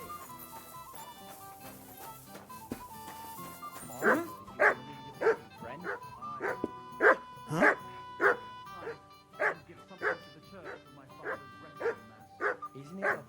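A dog in Kingdom Come: Deliverance 2 barks on command, about a dozen sharp, evenly spaced barks over a soft musical backdrop, fairly close and clear.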